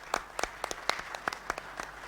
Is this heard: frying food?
no